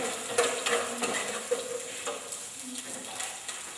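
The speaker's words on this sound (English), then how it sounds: "Firstly, you add your vegetable oil, add your diced onions, you stir." Diced onions are stirred in sizzling vegetable oil in a pan, with a soft, continuous frying hiss and light scraping strokes at close range.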